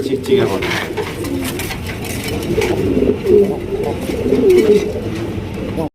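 Pigeons cooing steadily at a pigeon farm, a dense overlapping chorus of low rolling coos close by, with someone talking over them throughout.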